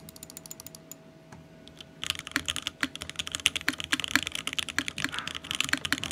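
Steady fast typing on a Smith Aeroboard 70 mechanical keyboard without foam, dense close clacking keystrokes starting after a couple of seconds of quiet and continuing without pause, no talk.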